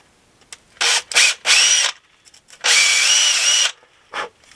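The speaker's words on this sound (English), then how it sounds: "drill a hole in it" A power drill bores a hole in a taxidermy form leg, heard as several short whirring bursts of varying length separated by brief pauses, close and clear with no speech.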